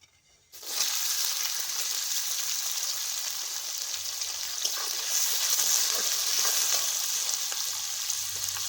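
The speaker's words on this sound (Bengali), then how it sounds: "এই তেলে দিয়ে দিচ্ছি পেঁয়াজ আর কাঁচা লঙ্কা" Sliced onion and green chillies hit hot oil after a brief quiet moment, setting off a sudden loud, continuous sizzle that keeps crackling steadily and close by until the end.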